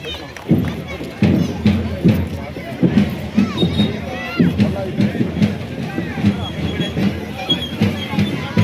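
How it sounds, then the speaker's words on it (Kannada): Clapping from a crowd welcoming a guest at an auto drivers' Independence Day celebration, a steady dense applause that continues throughout, mixed with crowd babble. "ದಯವಿಟ್ಟು ಚಪ್ಪಾಳೆ ಅವರಿಗೆ ಸ್ವಾಗತ ಕೊಡಬೇಕಂತ ಮನವಿ ಮಾಡ್ತಾ ಇದ್ದೀವಿ"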